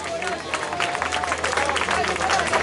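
Crowd at a boxing event in Grado cheering and clapping as a boxer enters the ring, a continuous babble of voices and scattered applause under steady hall ambience, with a faint voice over a loudspeaker.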